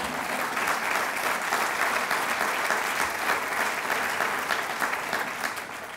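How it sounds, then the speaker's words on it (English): Loud, continuous audience applause, a thick wash of many hands clapping at once, holding steady throughout and easing slightly at the very end. "you can clap for teachers"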